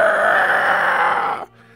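A voice makes a sustained, harsh roaring screech imitating a Star Wars TIE fighter engine, loud and steady for over a second before cutting off abruptly.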